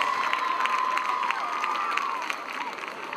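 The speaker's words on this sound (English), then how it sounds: "how about a big round of applause for your Geneseo High School Maple" Crowd noise in the stands at a Geneseo High School football game against Moline: a steady, distant wash of cheering and scattered clapping, with a sustained shout or whistle running through it.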